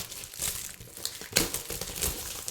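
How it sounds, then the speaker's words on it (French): Packaging from a Stampin' Up! 'Journée à célébrer' kit is unwrapped up close, giving a steady run of crinkling and rustling with a few sharper crackles, and no talking. "Hop, on déballe, on déballe."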